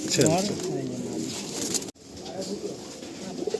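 Fulsira pigeons coo in a loft at Ichchapur, a steady murmur of soft throaty calls close by, mixed with people talking and a brief dropout near the middle.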